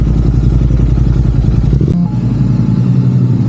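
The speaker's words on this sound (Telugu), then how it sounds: "బైక్ని అలా ఆన్లో పెట్టేసి ఉంచా కొంతసేపు ఇంజన్ హీట్ ఎక్కించడానికి" A Royal Enfield Interceptor 650 twin idles to warm up, giving a loud, close, steady low rumble. Partway through, a brief clunk cuts in, the tone shifts, and the engine keeps throbbing evenly.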